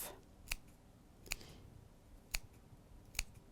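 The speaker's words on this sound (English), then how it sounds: "I'm just going to clip around these curves quickly." Scissors snip around the curves of quilt fabric in four crisp, evenly spaced clips, close and quiet, with no one talking.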